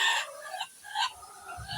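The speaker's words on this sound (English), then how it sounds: "why are these chickens screaming like this?" Chickens cluck and squawk in a short, loud burst of raspy calls, with no talk.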